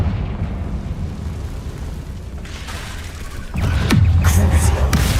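A fiery Confringo spell blast in Hogwarts Legacy, a low rumbling burst that swells into a loud booming roar with crackling debris, heard over ongoing game ambience.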